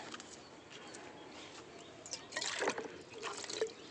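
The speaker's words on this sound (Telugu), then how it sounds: "ఇదిగోండి, బెండకి పోస్తున్నాను." Liquid fertilizer poured onto okra plants on a rooftop terrace garden, a faint trickling splash that grows louder toward the end, with a distant bird call.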